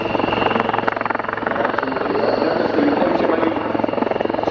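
A Royal Navy military helicopter's rotor chops rapidly and steadily, loud and close, with a constant engine whine underneath throughout, at an air show.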